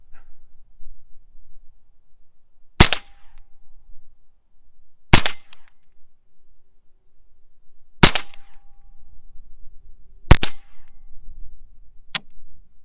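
Five sharp Ruger 10/22 rifle shots, each one ringing off a swinging steel target, spaced a few seconds apart and loud against quiet outdoor background.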